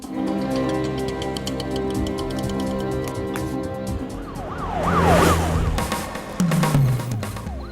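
A police car siren wails and sweeps in pitch during a Hindi action film scene, rising over a busy mix of vehicle noise and background music, loudest near the end.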